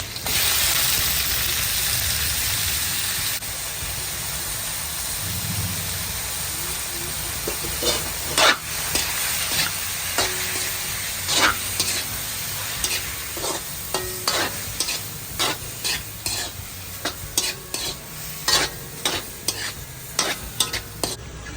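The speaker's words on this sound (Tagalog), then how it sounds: "at ilalagay na natin ang ating pusit" Squid for adobo, added with bay leaves, fries in a hot pan with a steady loud sizzle, then a utensil scrapes and stirs in quick repeated strokes as the hiss continues, close up and without talk.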